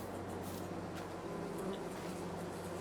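Bees buzz in the Farming Simulator 22 video game, a soft continuous droning hum with slight wavering, steady and faint throughout with no voices.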